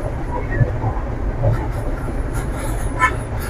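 A diesel train runs along the Colombo to Galle coastal line, heard from inside a compartment as a steady rumble and rattle of the carriage. Faint squeals and clicks of the wheels come through, with muffled voices in the background.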